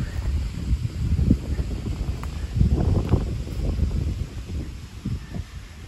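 Wind along the Rochdale Canal buffets the microphone in low, uneven gusts that swell and ease over a few seconds, with no voices.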